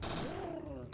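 Gunfire from the PlayStation game Parasite Eve 2, a loud continuous burst of shots filling the whole second, with a sweeping tonal game sound and no talk over it.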